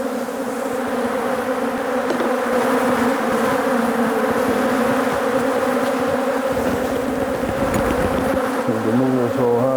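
Honey bees buzzing densely around a hive during shake-outs and splits, a steady loud droning swarm close by, continuous throughout with faint handling noises.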